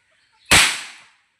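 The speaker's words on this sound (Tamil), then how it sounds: "இதுதான் பீடி பட்டாசு." A beedi firecracker goes off in one sharp, loud bang close by, its crackling tail fading within about half a second, after a faint fizz of the lit fuse.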